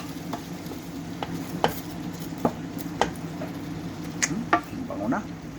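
Pinakbet vegetables are stirred in a sizzling pan, with scattered utensil scrapes and taps against the metal over a steady frying hiss, close by.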